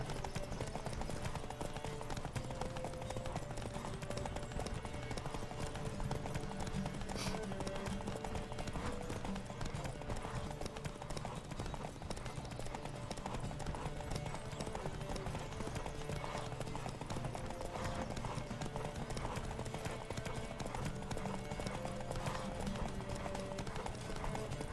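Hooves of a galloping horse in The Witcher 3 video game keep up a quick, steady clip-clop rhythm the whole time, faint and low in level, with no clear talking.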